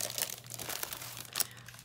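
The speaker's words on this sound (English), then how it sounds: "I'm using some clear plastic bags." Clear plastic bags crinkle and rustle close up while ornaments are packaged, with irregular soft crackles and a sharper crunch near the end. No one speaks.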